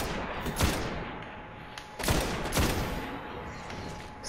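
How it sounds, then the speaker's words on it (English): A scout rifle firing in Destiny, with a few spaced single shots ringing out loudly and near, each followed by a brief tail of echo. "they're gonna test out the scout rifle"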